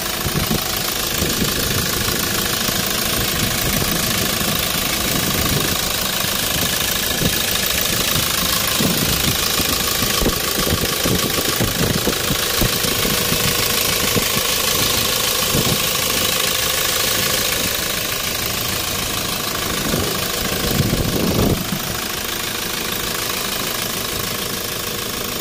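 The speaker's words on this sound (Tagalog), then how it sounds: "Engine." A 2017 Toyota Innova 2.8L diesel with automatic transmission idles continuously, its rough, knocking diesel clatter loud and close throughout.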